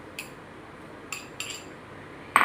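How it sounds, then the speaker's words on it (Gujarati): Boiled potatoes going into a bowl of poha, with a few sparse clinks of a utensil against the bowl, close and quiet, the last knock sharper and louder. "મેં મીડિયમ સાઇઝના 3 બોઇલ્ડ આલુ લીધા છે, એ આની અંદર નાખી દઈશું"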